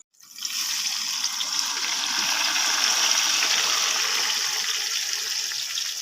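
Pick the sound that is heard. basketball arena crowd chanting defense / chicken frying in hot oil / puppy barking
chicken frying in hot oil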